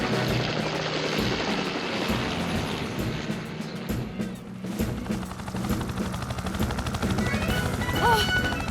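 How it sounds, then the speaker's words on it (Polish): A cartoon helicopter's rotor thumps and whirs continuously with a dense, noisy roar, mixed with sharp clattering bangs and crashes layered on top, during a cliff rescue. "Tom już tam leci śmigłowcem."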